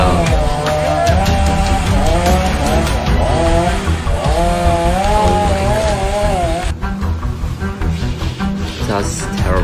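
A chainsaw runs loud and close up in a tree, its engine revving up and down in wavering pitch, then dropping to a rougher idle toward the end.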